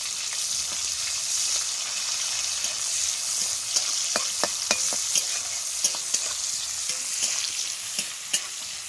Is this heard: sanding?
no